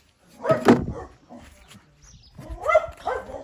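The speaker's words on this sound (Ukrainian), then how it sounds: "гавка на кота" A dog barks at a cat, giving a couple of short barks and yips, moderately close, with quiet background sounds between them.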